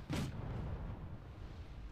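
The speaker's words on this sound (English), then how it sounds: "We see an artillery barrage trying to desperately do something." A distant artillery barrage in the wargame Wargame, a single muffled boom followed by a low rumbling tail, faint and far off.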